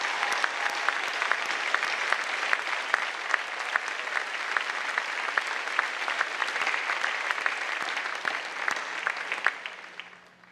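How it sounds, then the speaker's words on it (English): A commencement crowd applauds the graduating class of 2016 with sustained, dense clapping that holds steady for about ten seconds before tapering off at the end. "let us show our enthusiasm for the graduating class of 2016 by way of a"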